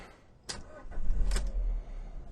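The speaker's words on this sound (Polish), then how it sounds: "Odpalamy." A 2005 Alfa Romeo 147 hatchback with the 1.6 T.S. petrol engine starts up from inside the car: a couple of sharp starter bursts, then the engine catches and settles into a steady low idle rumble, close and fairly loud.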